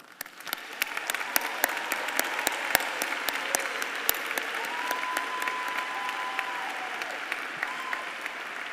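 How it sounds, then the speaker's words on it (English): Sustained applause from a crowd honoring graduating candidates at a spring diploma ceremony, dense clapping that swells within the first second and holds steady throughout, with a faint voice murmuring underneath. "These scholars have studied with distinction, and they merit your applause."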